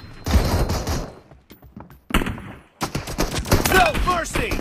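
Rapid bursts of automatic gunfire crackle in a gun game, with loud clustered shots separated by a brief quiet gap, then a dense volley near the end.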